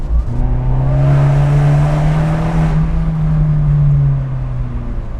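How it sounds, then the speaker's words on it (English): A loud, steady sports car exhaust in sport mode drones with a deep, rising and falling engine note, holding strong for several seconds before easing slightly near the end. "in sport mode, the exhaust note just comes to life"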